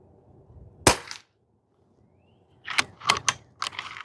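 Sharp single report from a Pinty 9 .22 PCP bullpup air gun, loud and close, followed by quieter clicking and clattering noises after a pause.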